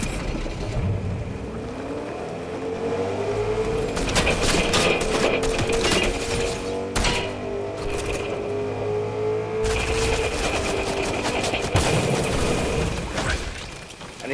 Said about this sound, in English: He got a teammate that's shooting at him.